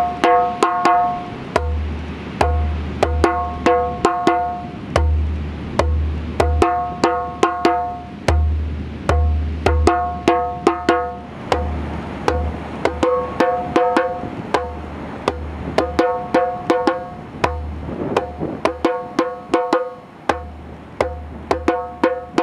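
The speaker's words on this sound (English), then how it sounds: "Part one of Kuku consists of three basses followed by four open tones and sounds like this" Solo djembe plays the Kuku part one pattern, three deep bass strokes followed by four ringing open tones, repeated in a steady, loud, close cycle with no voices.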